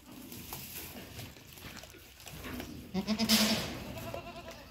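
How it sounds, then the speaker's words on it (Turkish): Saanen and Maltese crossbred goats kept for milk give a clear, nearby bleat partway through, over a low, busy farmyard background. "Bunlar sahanen ile maltız keçisinin karışımından olmuştur"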